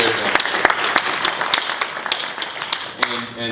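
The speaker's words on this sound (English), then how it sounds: "another round of applause for Robert here for hosting a really great event" A crowd at a Steem Saturday meetup event in Johannesburg gives a round of applause for the host: close, dense clapping that rises and fades over a few seconds, with voices mixed in.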